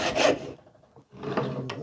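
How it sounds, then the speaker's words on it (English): A handsaw cutting through wood held in a vise, two rasping strokes up close with a brief pause between them. "Again, just using a handsaw,"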